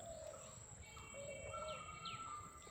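Faint bird calls by a canal in the Sundarbans, several thin whistled chirps and short rising notes over a soft outdoor background.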